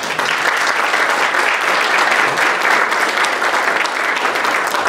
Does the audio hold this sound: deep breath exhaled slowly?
no